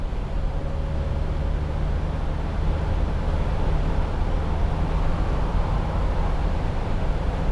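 A 2008 Mercedes-Benz SLK200 Kompressor driven with the roof down gives a steady roar of wind and road noise with a low engine hum underneath, loud and unbroken throughout.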